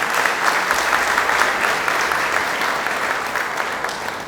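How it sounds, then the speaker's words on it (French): Steady, dense applause from an audience at a hospital's annual review assembly, filling the whole stretch at an even, loud level with no voices on top. "nous devons donc applaudir pour nous-mêmes pour cela"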